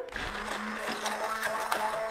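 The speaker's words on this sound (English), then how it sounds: "back to the stick blender" A stick blender whirs steadily through a pink raspberry cheesecake filling in a home kitchen, a continuous close mechanical hum with a few brief surges as it mixes.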